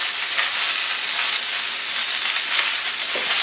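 Oil heats in a pan for cooking zucchini, giving a steady, bright sizzling hiss that holds at an even level throughout, close by and with no one talking.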